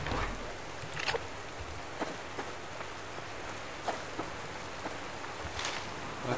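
Rain falls steadily in the Subsistence video game, a dense, even hiss of drops with scattered louder patters on surfaces, continuous throughout and with no voices.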